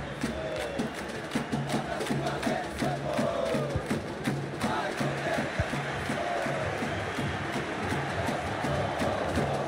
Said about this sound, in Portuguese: Um espetáculo na arquibancada, a torcida vai à loucura, que festa do futebol